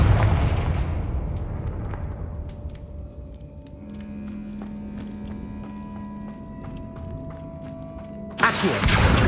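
A Confringo spell blast in Hogwarts Legacy booms loudly and fades into a long ringing tail with scattered magical chimes, then a second sharp burst hits near the end.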